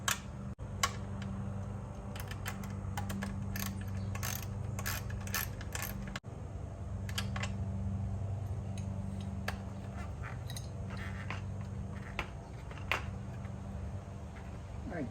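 A ratchet clicks in short runs while tightening the battery on a Harley-Davidson 883 Sportster, close and sharp over a steady low hum, with pauses between strokes.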